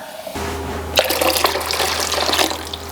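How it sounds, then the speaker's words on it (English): A quart of water runs into a pot of ingredients in a home kitchen, a continuous splashing, gurgling pour that starts abruptly and keeps going steadily at close range. "So I'm also going to add into this a quart of water."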